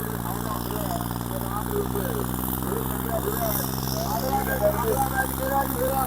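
A heavy, steady tractor engine rumble fills the scene at a tractor-trolley pulling contest in Mansa district, continuous and close, with crowd voices chattering over the drone.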